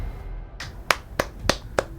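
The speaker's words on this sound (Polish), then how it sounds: "Klaszcze." An in-game character claps in GTA Online, four sharp, evenly spaced hand claps in quick succession, close and clear with no talk.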